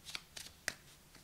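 Tarot cards are shuffled by hand in a few quick, faint riffling bursts with brief pauses between them, close by in a quiet room.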